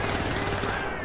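Rapid automatic hip fire from a gun in the game Syndicate, fired while reloading, a steady continuous rattle of shots over a short stretch with a voice speaking alongside.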